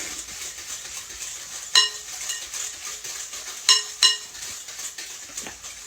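A utensil stirs pineapple cake batter with a little sugar in a bowl, giving soft scraping swirls broken by a few sharp clinks against the side, close and clear.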